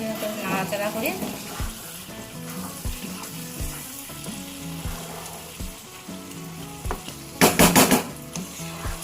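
Paneer cubes stirred into a frying masala for paneer butter masala, giving a close sizzle under repeated scraping and clacking of a spoon against the pan, with a burst of louder hissing near the end and no voices.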